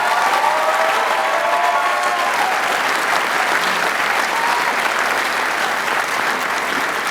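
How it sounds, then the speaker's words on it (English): Loud, sustained applause from a graduation ceremony crowd, many hands clapping steadily for the whole stretch, with faint speech and murmurs underneath. "How about a nice round of applause for them?"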